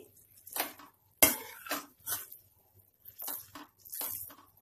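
Spoon scraping and clinking against a pan as powdered sugar is stirred into ghee khurchan, in short uneven strokes with brief gaps, close and moderately quiet.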